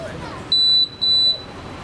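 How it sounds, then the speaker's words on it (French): A handheld metal detector sweeping for antipersonnel mines gives two sharp, high-pitched electronic beeps in quick succession as it reacts to a buried object, each tone steady and about a third of a second long. "Et le détecteur semble cette fois réagir."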